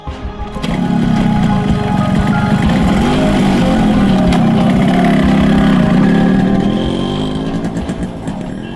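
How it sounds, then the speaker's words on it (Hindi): A scooter engine starts and settles into a steady, loud idle close by, holding a mid-pitched drone for several seconds before easing off slightly at the end. "बेटा तुम स्कूटर निकालो"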